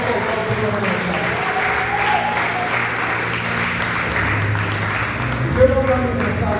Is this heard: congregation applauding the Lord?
yes